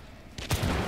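Gunfire in the Hunt: Showdown shooter game: a brief burst of shots kicks in partway through, sharp and fairly close, then fades into a lingering rumbling tail with no talk over it.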